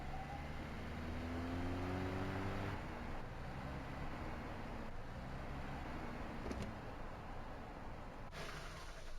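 A faint video-game engine whirs and spools down in Voices of the Void, its pitch sliding lower over several seconds, with soft mechanical rumbling underneath.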